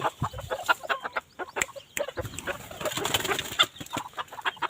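Short-legged bantam chickens, free-range at a village home, clucking in repeated close, busy bursts, with other birds chattering around.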